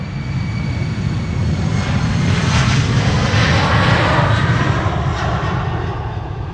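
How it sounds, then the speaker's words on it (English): An Embraer 190 jet of KLM departing Amsterdam Schiphol Airport, a loud continuous engine roar with a broad rushing hiss that swells slightly toward the middle and holds steady, heard alone from a moderate distance. "KLM Embraer 190, KLM flight"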